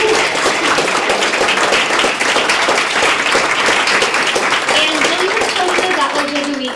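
Audience applause at a student Senate of College Councils general assembly, a dense, steady roar of many hands clapping together for the full stretch, loud and close, with some voices mixed in.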